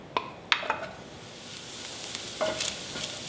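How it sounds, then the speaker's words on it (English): Bacon fries in a pan to crispness, a soft continuous sizzle broken by a few sharp clinks and scrapes of a utensil against the pan, quiet and close. "I'm gonna start by cooking my bacon so I can drain the fat"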